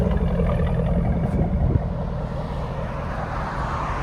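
A Borla Atak LS crate muffler exhaust idling, a steady low rumble that holds evenly throughout, fairly close and continuous with no talk over it.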